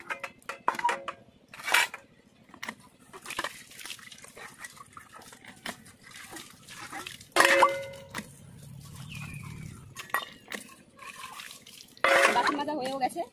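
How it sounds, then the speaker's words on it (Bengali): Scrubbed dishes and pots are rinsed with water, with irregular splashes and pours in short bursts, some clinks, and voices heard at times between them. "বাসন মাজা হয়েও গেছে, এবার ধুয়ে নিচ্ছি।"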